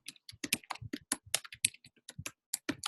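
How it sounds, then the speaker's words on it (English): Someone types quickly on a computer keyboard, each key giving a crisp, close click in irregular bursts with short pauses between. No voices are heard. "I'm going to type it in the chat"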